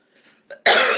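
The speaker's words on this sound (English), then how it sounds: "I have a cough." After a faint breath, one sharp, loud cough bursts out close up.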